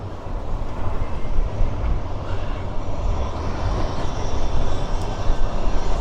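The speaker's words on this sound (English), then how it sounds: "As another tram goes flying past." A Blackpool tram rumbles past close by, a loud, steady roar of wheels and motor with rattling that swells slightly toward the end; no one speaks.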